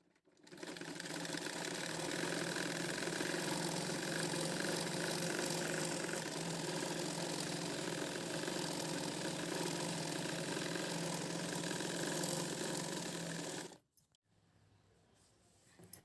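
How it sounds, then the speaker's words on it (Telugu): Sewing machine running steadily for about fourteen seconds, double stitching a seam on a lehenga blouse, a loud continuous motor whir that stops abruptly near the end, followed by quiet. "డబల్ స్టిచ్చింగ్ చేయండి."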